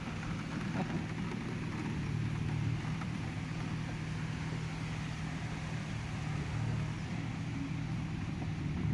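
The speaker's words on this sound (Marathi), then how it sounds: "पाऊस पडतोय ना मस्त" Steady rain falls outdoors as a continuous broadband patter with a low rumbling undertone, loud and unbroken throughout with no voices.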